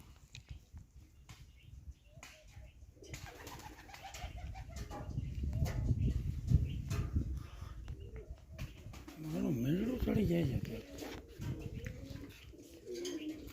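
Pet pigeons kept loose at an open-air pigeon house coo in soft, wavering bursts, strongest near the end, over scattered rustling and a few wing flaps at moderate distance.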